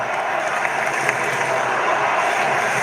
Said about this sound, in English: The chant reverberates around ENGIE